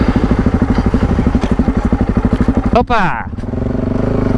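An adventure motorcycle, a Yamaha Ténéré or KTM 790, rides off-road with a loud, pulsing engine close by, then a sudden clatter and thump as it jolts, followed by a brief exclamation and a revving engine.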